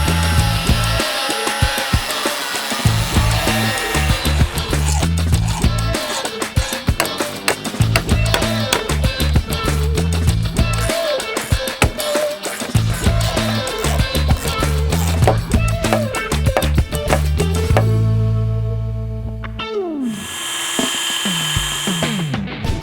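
Power tool cutting off the excess length of a stainless steel threaded rod while building a wooden garden pavilion, a steady loud whine with jagged bursts, ending in a short spin-down and a brief separate whir.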